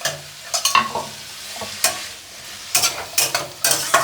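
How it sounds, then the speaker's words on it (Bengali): Mushrooms fry in a generous amount of mustard oil, a soft sizzle beneath a series of sharp, irregular spatula scrapes and stirs against the pan, all close and without talk. "একটু ভালো করে ভেজে নেব"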